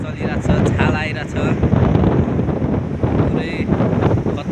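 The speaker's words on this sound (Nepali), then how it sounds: "समुद्रको छेउतिर हावा चलिरहेछ छाल आइरहेछ" Wind buffets the microphone at a seashore while sea waves roll in, a loud continuous roar and rush with surging swells, and a person talks over it.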